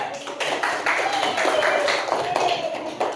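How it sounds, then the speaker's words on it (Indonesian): Children in a classroom clap for a classmate, a fairly steady patter of small hands lasting a few seconds, close and moderately loud with faint voices mixed in. "beri tepuk tangan buat Aurea."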